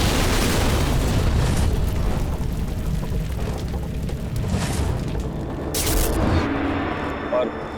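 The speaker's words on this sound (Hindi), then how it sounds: "एक जोर का धमाका हुआ" A bus explodes with a heavy booming blast that rumbles out, followed by a long roaring, crackling wash of noise as flames burst out, with a brief sharp burst near the end.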